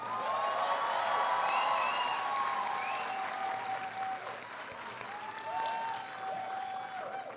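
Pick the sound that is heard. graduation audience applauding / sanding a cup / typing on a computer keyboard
graduation audience applauding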